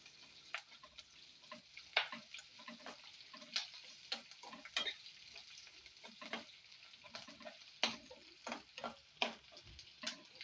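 Tempering spices frying in oil for a spinach dal, a quiet close crackle with irregular sharp pops and spits scattered through, no voices.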